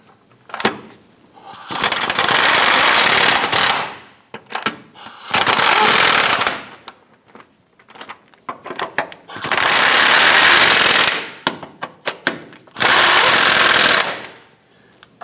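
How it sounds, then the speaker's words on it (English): A power tool hammers in four long bursts, tightening the subframe bracket bolts on a 2008-2013 Nissan Rogue during a front forward subframe bushing replacement; loud, close, rattling impacts separated by short pauses. "Tighten down our four bracket bolts."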